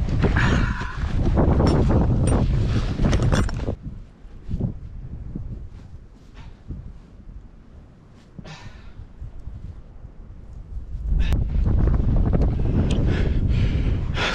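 Strong blizzard wind gusts roar and buffet loudly, easing into a quieter lull before surging hard again, with no voices.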